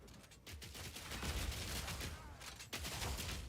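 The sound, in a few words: mortar launching explosive grenades in video game Path of Exile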